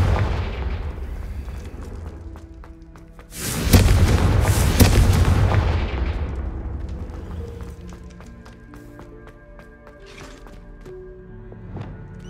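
Confringo fire spell blast in Hogwarts Legacy, a loud broadband explosive burst erupting around the middle and tailing off over several seconds beneath game music and ambient tones.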